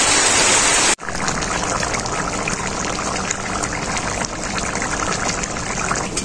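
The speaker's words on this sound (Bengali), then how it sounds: "এরপর আমি পরিমাণ মতো জল দিয়ে দেবো ঝোল করার জন্য।" Water pours into a pot of chicken curry to make broth, a loud, steady close-up gush and bubbling that runs without break after a short cut near the start.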